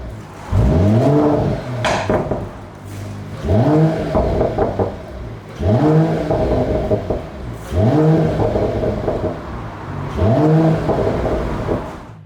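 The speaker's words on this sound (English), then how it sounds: "Get some really nice pops and bangs." A 2021 Mercedes-AMG E53 wagon engine in Sport Plus, revved five times in a steady rhythm, each rise climbing sharply then dropping back with crackling exhaust pops between, loud and close with no talking.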